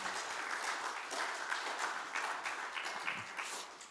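A church congregation claps together, a moderate, continuous patter of hands heard from a little distance, with no voices on top.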